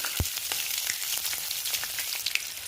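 Cumin, mustard seeds and green chilies tempering in about two tablespoons of hot oil, giving a steady close crackling sizzle with a few sharp pops and spits, and no voices.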